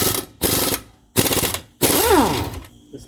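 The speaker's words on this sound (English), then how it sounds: "Yeah, nice with the impact wrench." Impact wrench removing bolts from a Sprinter van strut hub assembly, three loud rattling hammering bursts separated by short pauses, the last one winding down with a falling whine.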